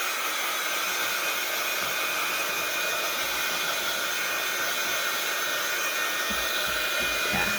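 A hair dryer blows steadily and loudly on stenciled paint on a shabby farmhouse junk journal page, a continuous close whoosh with no talk.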